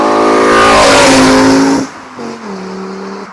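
Loud, close revving of a VW Mk2 Golf fitted with a swapped 07K five-cylinder engine and a Milltek exhaust, rising to a harsh roar, then dropping off sharply to a lower burbling idle.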